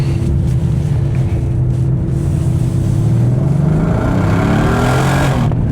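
A new Bentley Continental GT accelerating hard at full throttle, its engine a loud continuous roar heard from inside the cabin, rising in pitch as the revs climb through a gear.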